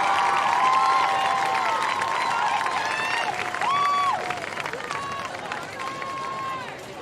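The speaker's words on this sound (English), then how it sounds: "how about another round of applause for the Marching Hawks and Golden Pageantry Corps." At a marching band invitational, stadium spectators applaud and cheer for a departing marching band and pageantry corps, a broad crowd roar running beneath a loud public-address announcer's voice.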